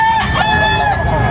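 A rooster for sale at a fowl market in Tabunok, Talisay crows once, a loud, harmonic, wavering call near at hand over a busy background.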